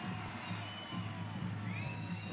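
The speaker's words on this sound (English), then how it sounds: "Earns the applause of Eighth Notch." A soccer stadium crowd at the El Paso Locomotive FC versus Colorado Springs Switchbacks FC match cheers and applauds in a steady, dense roar that fills the short stretch without pause.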